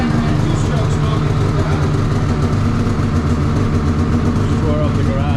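A two-stroke Polaris snowmobile engine idles in a garage while smoking, holding a steady rough low rumble at close range, with people talking over it.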